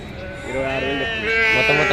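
Sheep at the Pebbair sheep market giving a long, loud wavering bleat close by, with overlapping calls from others and people talking in the background.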